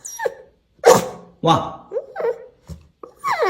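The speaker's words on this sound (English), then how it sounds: "look how cute this dog is" Small dog barking in short, sharp yips heard through a phone speaker from a social media clip, interleaved with a person's surprised speech.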